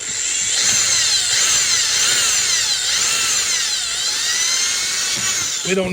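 A power drill with a 13/64 bit whines continuously at high speed for several seconds, its pitch wavering slightly as it bites into material, then cuts off abruptly.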